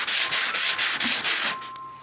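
Spackle spread across a wall being prepped during a home office makeover, about six rhythmic, close and loud scraping strokes in quick succession before the sound fades.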